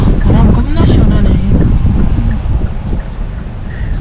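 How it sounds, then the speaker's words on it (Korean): Wind rushing past the microphone at a lakeside in Chuncheon, a steady loud buffeting roar with low rumbling gusts throughout, and a voice talking briefly near the start. "바람 겁나 시원하네"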